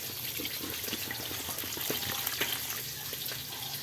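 Water is added to pork ribs cooking in a pan, producing a close, continuous sizzling and bubbling hiss with a brief wet splash, and no voices.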